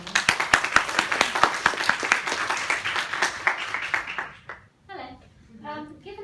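Brisk clapping from a conference audience welcoming a speaker, dense and lively for about four seconds before fading, followed by a voice beginning to speak.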